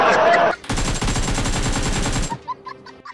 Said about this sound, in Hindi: सामने गुंडा आया तो मैं उसके ऊपर फायर कर रहा था